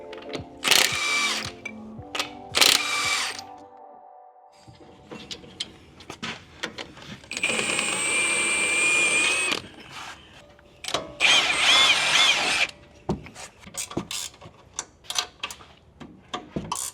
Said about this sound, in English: We're going to buzz the lug nuts off, get the wheels out of the way